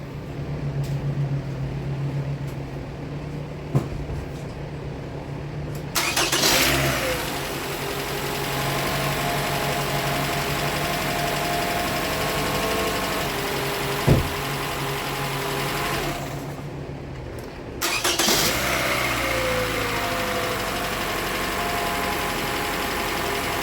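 A 2013 Toyota Venza 2.7L engine cranks and catches on its first startup after repair work. It settles into a steady idle, then a second crank-and-start follows and it idles again, all close and without talk.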